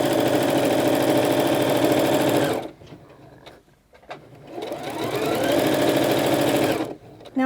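A sewing machine runs steadily and loudly through thick minky fabric for a throw pillow, stops briefly amid light handling noise, then starts stitching again at full speed before a final pause.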